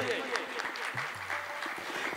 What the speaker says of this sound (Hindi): ताली बजाइए भाई, ताली में कंजूसी मत कीजिए।